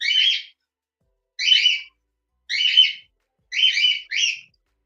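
Pet birds chirp indoors in four separate short bursts of bright, squawky tweets, each about half a second long, with quiet gaps between them and a quick double call at the end.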